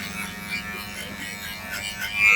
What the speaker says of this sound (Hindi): ये हमारी छोटी वाली ट्रिमर है, इससे जीरो हो जाएगी